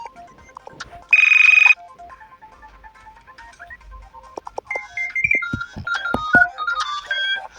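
A mobile phone rings while calling a friend: a loud, steady electronic tone bursts briefly, then a busier melodic ringtone plays in quick chiming notes, indoors and close.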